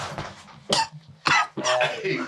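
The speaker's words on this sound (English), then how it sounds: "Why are you coughing all that?" Three harsh, close coughs in quick succession at a chiropractor's, separated by brief pauses, with a low voice murmuring at the start.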